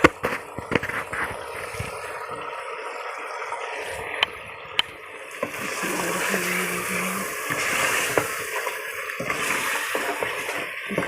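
Chicken korma meat frying in a pot, a steady low sizzle with scattered clicks and stirring knocks, close and continuous with no talk.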